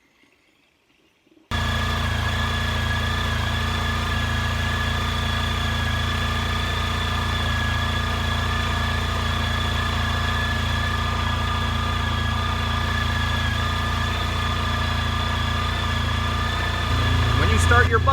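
A motorcycle engine idles steadily for about sixteen seconds just after a clutch replacement, starting abruptly after a brief quiet moment, with a constant close-up hum and a slight swell near the end.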